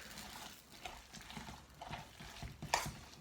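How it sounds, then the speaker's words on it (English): Ramen noodles being tossed with Thai peanut sauce make faint, wet squelching and soft scraping, with a light utensil clink near the end, quiet and close. "I'm just going to mix this all up so the sauce gets all over these noodles."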